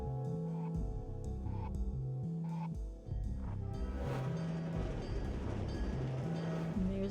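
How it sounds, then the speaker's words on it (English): A train in the video game Necrobarista passes as a steady, loud rumble with rhythmic low clacking that builds into a broad, roaring wash of noise. "And there's the train."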